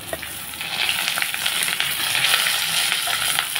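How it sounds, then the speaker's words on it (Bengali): Eggplant goes into a pan of potatoes already browning in hot oil. A loud, bright sizzle and crackle runs steadily throughout, swelling slightly as the pieces settle, with faint stirring beneath. "আলুটা একটু লাল করে ভেজে নিয়ে আমি বেগুনটা দিয়ে দেবো। এখন দিয়ে দিচ্ছি বেগুন"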